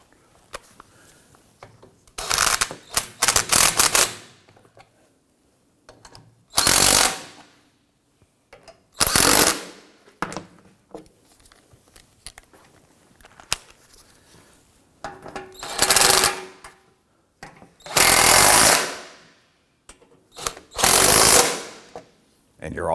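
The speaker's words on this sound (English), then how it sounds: "With all the bolts started, let's go ahead and snug them down" Ratchet wrench snugging bolts on the engine splash shield of a 2003-2014 Volvo XC90, heard as several separate bursts of rapid clicking with short pauses between them, close and fairly loud.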